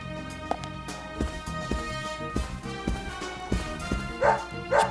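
A dog barks in the video game Deadly Premonition, several short woofs and yips spaced irregularly over game music, fairly close and moderately loud.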